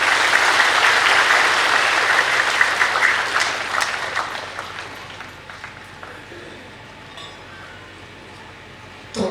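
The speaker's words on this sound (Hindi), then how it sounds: "अच्छे से बोला आपने, तालियां बजाएं" Audience applause at a spiritual gathering, a strong burst of many hands clapping that tapers off over several seconds into scattered claps, then a quiet room with a single sharp sound at the very end.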